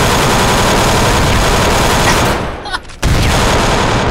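Heavy gunfire in the video game GTA 4 fills the clip, a dense continuous fusillade of loud shots that briefly drops out near 3 seconds before resuming at full volume.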